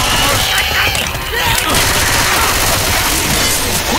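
Dense gunfire and explosions from the Left 4 Dead 2 Dark Carnival campaign: continuous loud rapid shots and crashing impacts with no break, a voice faintly mixed in.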